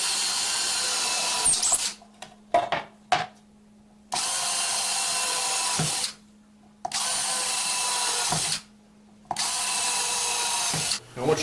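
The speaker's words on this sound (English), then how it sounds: "Now once you got all your holes drilled," A power drill bores pilot holes through wood for a woodworking jig. It runs in loud, steady bursts with short stops between them, plus a few brief blips. No one speaks.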